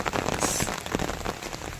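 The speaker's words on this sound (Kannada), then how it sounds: "ಹೆವಿ ಮಳೆ ಬರ್ತಾ ಇದೆ" Heavy rain pours steadily onto a hard surface, a dense close patter of drops with no voices.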